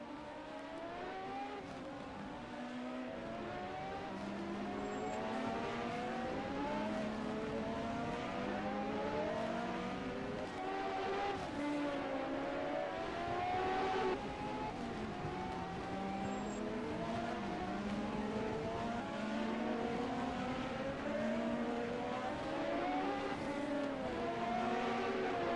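Open-wheel Indy cars at the 1987 CART Long Beach Grand Prix street race scream past one after another, engines rising and falling in steady overlapping waves at close range, including a March 86C.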